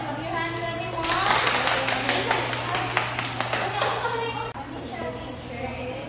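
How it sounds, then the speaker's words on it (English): A classroom of children clapping their hands together, a dense run of many claps lasting a few seconds, fairly loud in a room with a steady hum behind it. "Clap your hands, everyone."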